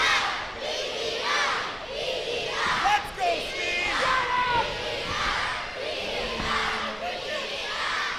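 A wrestling crowd on Prince Edward Island roars and yells in a dense, sustained wash of cheering, shouts and whoops rising and falling, filling the hall for several seconds.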